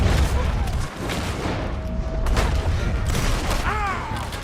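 Dense volleys of gunfire in the Red Dead Redemption 2 video game, loud overlapping shots and booms crackling continuously, with a voice shouting briefly near the end.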